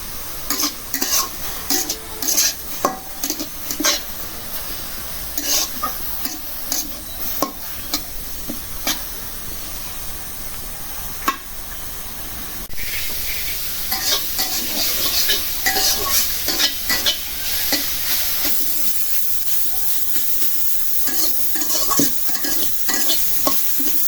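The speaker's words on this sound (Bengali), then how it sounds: "এখন একটু তেল দিয়ে ভাজব" Food fries in oil with a continuous sizzle while a spoon scrapes and clinks against the pan in repeated stirring strokes, close up.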